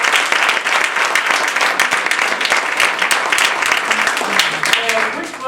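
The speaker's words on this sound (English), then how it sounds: "I love applause, so not too small." An audience claps at a Toastmasters speech contest. The applause is dense and sustained and stays fairly loud throughout, with a voice briefly heard near the end.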